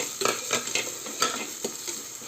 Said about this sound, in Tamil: இதையும் வதக்கிக்கலாம்